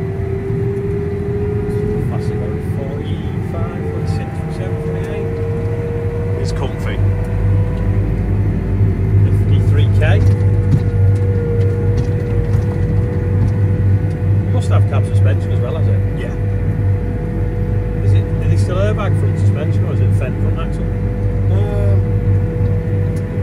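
A towing vehicle's engine drones steadily and loudly under load throughout, a constant low rumble with faint higher whine, while people talk quietly over it inside the cab.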